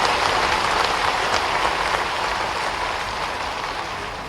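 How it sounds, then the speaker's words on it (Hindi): An audience applauds at a police promotion gratitude event in Bhopal, a dense, sustained wash of clapping filling the hall and slowly tapering off. "ताली बजाओ तो दिल से बजाओ"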